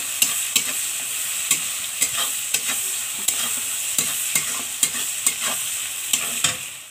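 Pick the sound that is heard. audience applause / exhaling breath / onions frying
onions frying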